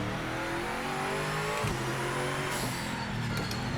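A race car in the Project Motor Racing video game accelerates around the Imola circuit, its engine a loud, continuous drone climbing in pitch through the gears, heard alone and close.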